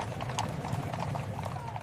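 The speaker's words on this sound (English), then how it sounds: "Horse-drawn omnibuses jostle with private carriages and freight wagons." Horse-drawn carriages and omnibuses clip-clopping along a busy 1850s New York City street, with a fast, steady patter of many hooves over a continuous low rumble of wheels.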